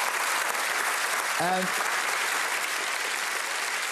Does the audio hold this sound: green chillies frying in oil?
no